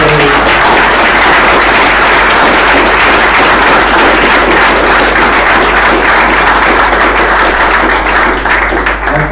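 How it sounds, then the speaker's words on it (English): Audience at a tech talk on Docker Swarm breaks into sustained loud applause, dense clapping filling the room steadily for about nine seconds. "Guys, let's give him a big applause."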